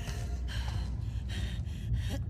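Labored breathing from a character in The Last of Us Part 2, a steady run of heavy, rasping gasps over a low background rumble, close and fairly quiet.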